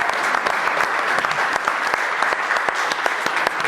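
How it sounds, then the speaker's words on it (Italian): A crowd at a televised sports event gives sustained, evenly dense applause, a steady patter of many hands clapping at moderate loudness for several seconds. "Allora facciamo un applauso a questa bella iniziativa."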